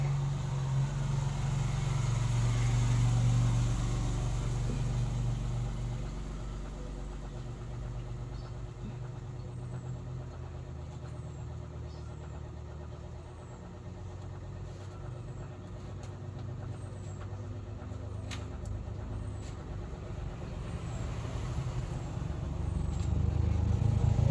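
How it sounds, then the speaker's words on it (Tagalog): Many vehicles pass by on a road on a Friday, making a steady, loud low rumble of car and truck engines that swells and fades throughout, with no talking. "daming sasakyan na dumaan"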